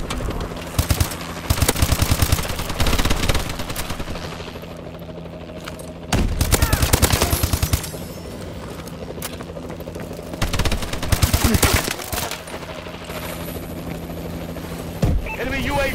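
Video game battle with a Warbird gunship overhead: a steady rotor-like drone runs throughout while repeated bursts of rapid automatic gunfire break in loudly, alongside game voice announcements.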